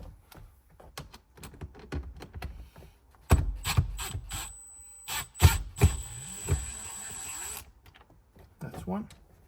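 Screws being removed from the dashboard of a Toyota GR86 / Subaru BRZ: a run of small clicking, ratcheting mechanical taps, with a louder stretch of clacks and rattles in the middle, close by, and speech alongside.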